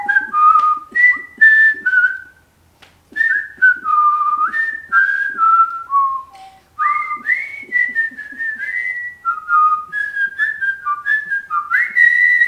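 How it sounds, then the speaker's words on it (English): A person whistles the Totoro theme song, a clear close melodic line of sliding held notes broken by short pauses, alone without talk. "We're trying to teach him to whistle the Totoro theme song."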